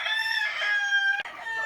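A gamefowl rooster crows once nearby, a long strained call held steady before breaking off, followed by faint farmyard background.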